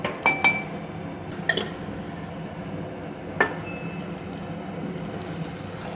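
A spoon stirs gongura and walnut chutney in a bowl, giving a few sharp clinks against the rim early on and one more later, over a soft, steady scraping mix with no talk.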